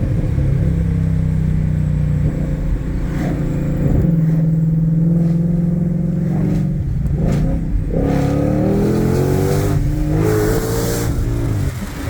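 A Ford Mustang GT500's exhaust burbles and rumbles nearby, rising and falling in pitch with throttle blips and revs over a steady low engine drone.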